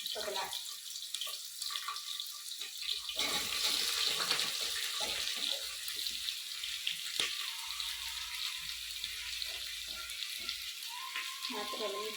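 Onion going into a pan of chili and garlic frying in oil, a continuous sizzle with a louder burst partway through, plus faint stirring and water noises in a home kitchen.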